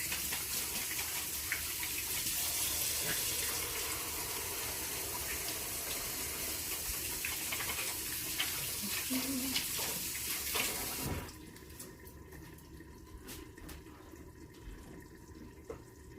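Water runs steadily from a kitchen tap during hand washing, a broad continuous rush for about eleven seconds before the flow is shut off and only quieter room sound remains.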